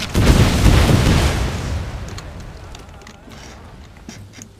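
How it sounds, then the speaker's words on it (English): Grenades bursting among line infantry in a Total War battle: one loud booming explosion that swells then fades into a rumbling decay over a few seconds. "he just throws grenades at my line infantry"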